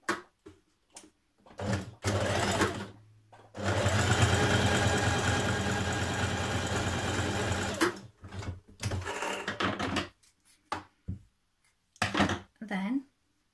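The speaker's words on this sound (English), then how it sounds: "Stitch the back seam of your neckband." A sewing machine runs in one sustained burst of steady mechanical whirring while stitching the back seam of a sweatshirt neckband, preceded and followed by short bursts of talking nearby.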